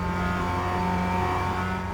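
A Mazda MX-5 Cup race car engine on track at Canadian Tire Motorsport Park gains RPM, its steady buzzing drone loud and close throughout.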